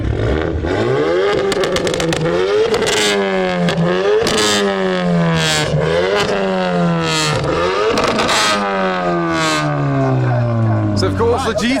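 Ford Focus ST engine revving hard at a rev battle, with repeated rising and falling throttle blips and sharp bursts, loud and close, continuing steadily with no pauses.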